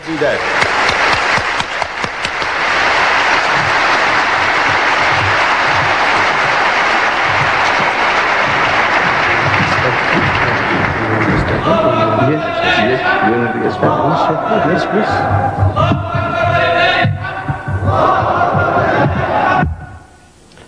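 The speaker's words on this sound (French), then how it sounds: "nous allons applaudir notre grand invité, Cheikh Ahmed Didat" Roaring audience applause and cheering for guest Sheikh Ahmed Deedat at a lecture, loud and continuous for about eleven seconds before fading under a voice that carries on alone.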